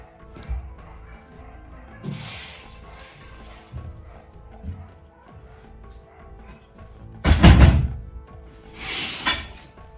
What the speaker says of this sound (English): I close the window.